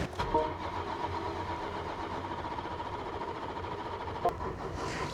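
A 2024 BMW M4 Competition (G82) struggles on a weak battery, its engine cranking steadily without catching, a continuous mid-pitched churn heard close up with no talk over it.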